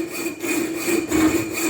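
A hand saw cuts a part to length during an electric hideaway headlight conversion on a 1968 Pontiac GTO, rasping steadily and close by with no talk over it.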